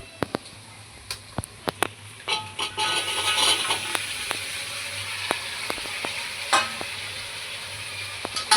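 Chopped vegetables stirred into pulao in a hot pan, sharp spoon clicks and scrapes at first, then a fuller sizzle with continued stirring, close up, no voices.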